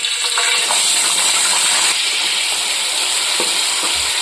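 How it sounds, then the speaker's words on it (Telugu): Onion paste fries in hot oil with fenugreek seeds, giving a continuous close sizzle and hiss, with a few faint clinks and stirring scrapes in the pan. "ఇదండి ఆనియన్ పేస్ట్ అయితే మంచిగా ఫ్రై అయ్యి ఆయిల్ కూడా బయటకు వచ్చింది కదా"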